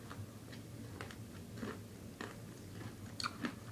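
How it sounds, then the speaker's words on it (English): Boston Baked Beans candy-coated peanuts being bitten through, giving several short crunchy snaps spread over a few seconds, close to the mouth and fairly quiet, with no talking. "Alright, I'm going to bite through them."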